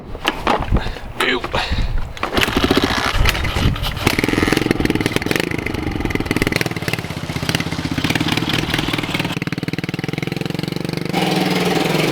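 A pit bike engine cranks with a few sputters, then catches and settles into a steady, loud idle that runs close by for the rest of the stretch.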